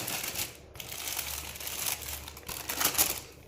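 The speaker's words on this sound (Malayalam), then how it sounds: "വാഴയിലയിൽ കെട്ടിവെച്ച ചിക്കൻ പൊതിച്ചോറ്. So let's unbox." A chicken rice parcel wrapped in banana leaf is opened nearby with soft, irregular crinkling and rustling that swells and fades in short bursts.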